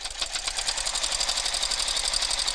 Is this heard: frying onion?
no